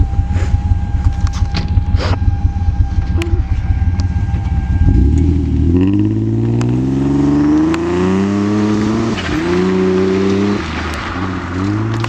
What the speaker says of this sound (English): I'm going to take it for a quick spirited drive